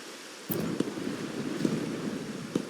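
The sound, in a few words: rain and thunder in the video game Wuthering Waves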